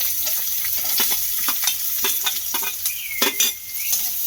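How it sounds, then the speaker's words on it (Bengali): Chopped onion frying with ginger and garlic, a steady sizzle punctuated by repeated spatula taps and scrapes against the pan, close up and without talking. "কেটে রাখা পেঁয়াজটাও দিয়ে দেব।"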